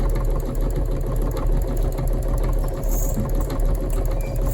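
A Singer EM200 embroidery machine runs steadily at close range, its rapid mechanical stitching chatter continuous and loud with a low motor hum underneath, and no voices over it.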